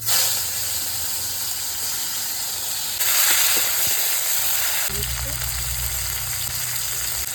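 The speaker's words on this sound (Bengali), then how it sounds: "তা প্রথমে আমি আগে টমেটোটা তেলে দিয়ে দিচ্ছি। কড়াইতে মাছ ভাজার তেল ছিল, ওই তেলেই করে নিচ্ছি।" Tomato dropped into hot leftover fish-frying oil in a wok, a loud continuous sizzle and hiss that surges partway through, then settles into a steady fry with a low hum beneath.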